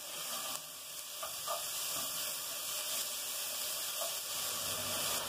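Chopped onions frying in a hot pot for a rooster-head broth, giving a steady, close hiss and sizzle with faint crackles throughout, no talking.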